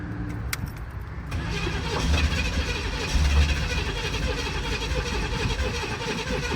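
A 1987 Pontiac Firebird engine, pulled from the woods after 22 years sitting, cranks over and catches, settling into a loud, steady, rough idle that fills the whole stretch.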